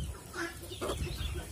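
Chickens used to being fed bread and bran cluck softly nearby, a few short, quiet clucks over a faint background.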